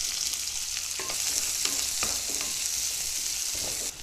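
Cashew nuts sizzling in hot oil, a bright continuous frying hiss close by, with occasional soft stirring clicks of a utensil in the pan.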